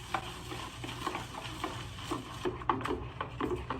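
Homemade anise soap mixture being stirred by hand in a container, a steady scraping churn with a few louder knocks near the end, close and alone without talk.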